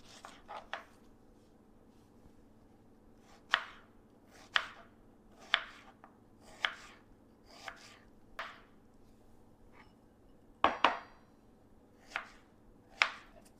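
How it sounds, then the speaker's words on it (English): A knife slices through fresh strawberries on a cutting board, about a dozen crisp, separate cuts at an uneven, unhurried pace, close and quiet, with no talking. "So I'm going to get started slicing some strawberry tops."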